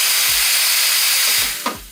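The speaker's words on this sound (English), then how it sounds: "Now, we're just going to want to run our steam wand," A Sanremo espresso machine's steam wand run during cleaning gives a loud, continuous broadband hiss throughout, with a few low thumps and a brief sharper burst near the end.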